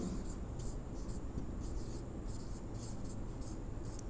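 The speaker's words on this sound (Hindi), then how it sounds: "इसकी थोड़ी डेफिनेशन लिखता हूं मैं" Writing a definition of rational numbers on a board during a Class 10 maths lesson, a steady run of short scratchy strokes, close and clear over a low hum with no talking.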